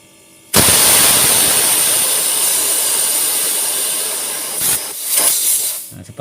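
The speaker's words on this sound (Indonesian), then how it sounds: "Anda tutup lagi agar benar-benar cairan yang berada di dalam evaporatornya keluar karena terdorong oleh gas LPG." LPG gas blowing liquid out of a refrigerator evaporator: a loud, steady rushing hiss that starts abruptly and holds for about four seconds, then breaks into short uneven sputtering bursts near the end.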